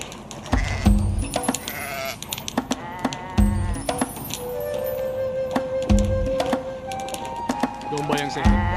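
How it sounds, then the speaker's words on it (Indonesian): Sheep bleat in several wavering calls, mixed with sharp knocking and tapping sounds, fairly close and loud in an outdoor scene. "Domba yang sehat."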